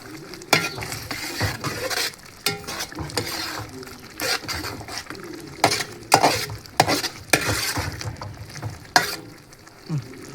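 A spoon scrapes and clatters around a pan of sizzling beef liver fry with coriander leaves, giving repeated loud knocks and scraping strokes over a steady, soft frying hiss, with no talking.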